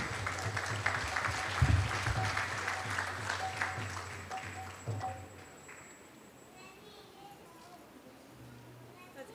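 Audience applause after a spiritual discourse at a Hare Krishna Sunday Feast, a broad clapping wash that holds for several seconds, then thins and fades toward quiet, with a voice speaking over the start.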